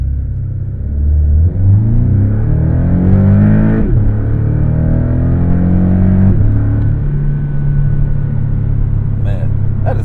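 A Porsche 718 Cayman base model pulling away in a manual launch, engine revving up through rising pitch sweeps with quick shifts between gears, loud and close from inside the car, with a person talking over it.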